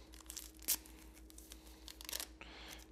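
A single-serve packet of Splenda sweetener is torn open in a kitchen, giving short crinkly paper rips, with one sharp tear midway and a second rustling burst near the end, close and fairly quiet.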